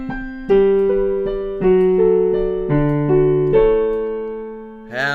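A solo piano plays a song at full tempo, sustained chords shifting every half second or so and ringing between changes, ending on a brighter final strike.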